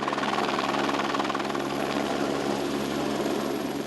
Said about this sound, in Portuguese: Na maioria dos focos, o combate só pôde ser feito com a ajuda de helicópteros.